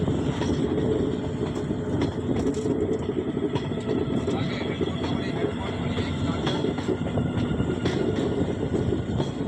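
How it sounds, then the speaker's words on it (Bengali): A train running slowly along a hilly route through the Dima Hasao hills, giving a steady, continuous rumble and rattle that stays even throughout. "পাহাড়ি রাস্তা, তো ট্রেনটা কিছু কিছু জায়গায় খুব স্লো যায়।"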